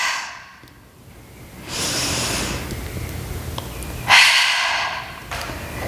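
A person exhales slowly and audibly during a wall Pilates arms and back exercise, producing soft breathy hisses that swell and fade twice, close to the mic with no talking.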